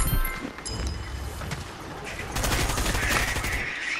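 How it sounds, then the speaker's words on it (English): Rapid bursts of gunfire in Fortnite, a dense crackling volley that thickens toward the second half, fairly loud and close, with faint speech in the background. "Who's shooting at me?"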